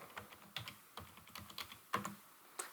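Quiet, irregular keystrokes tapped on a computer keyboard while entering text into a spreadsheet, with a few sharper key clicks standing alone.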